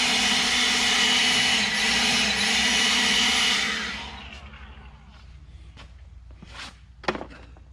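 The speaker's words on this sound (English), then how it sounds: "since I don't have a big air compressor, I'll use my leaf blower." Leaf blower used in place of an air compressor during rust repair on a 1970 Plymouth Barracuda, roaring loud and steady for about four seconds, then shutting off and winding down, followed by a few faint clanks and taps.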